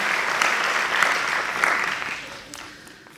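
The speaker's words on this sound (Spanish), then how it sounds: "Para ello pediría un fuerte aplauso" An audience at a Holy Week proclamation event in Palma del Río gives a warm round of applause for a work group, a dense patter of clapping that holds steady and then gradually thins and fades toward the end.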